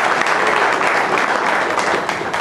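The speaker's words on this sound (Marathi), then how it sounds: "या सगळ्या टाळ्या त्यांना धन्यवाद देण्यासाठी होत्या" An audience at a harmonium solo concert breaks into steady, dense applause that holds at an even level throughout, with no speech over it.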